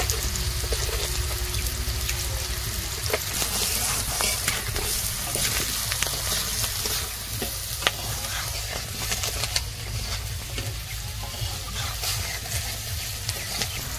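Spices for a rohu fish and potato curry, with chilli powder and salt, frying in a pan over a village cooking fire, giving a steady close sizzle with scattered clinks of stirring throughout.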